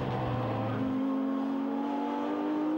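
GT race cars stream past at Silverstone with a steady, loud engine roar, one car's note rising in pitch as it accelerates through the field, no voices.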